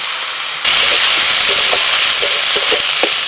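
Poppy seed and white mustard paste fries in a pan with whole cumin and ginger-green chilli paste, a steady loud sizzle bursting in after a quiet start, with light stirring clicks throughout.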